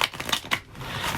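Tarot cards being shuffled by hand, with a few quick riffling bursts followed by a softer, steady rustle, close up and fairly quiet, with no talking.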